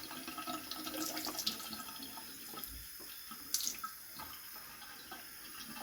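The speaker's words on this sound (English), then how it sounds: "I'm going to put the paper under the stream of water" Tap water runs steadily from a faucet onto wax-coated paper held under the stream, making a close, continuous splashing rush with a few louder spatters.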